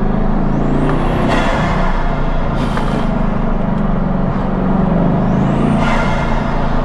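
A Bugatti Chiron on an open road, heard as a loud, steady engine and road roar with a couple of rising whine sweeps as it accelerates to pass, constant throughout.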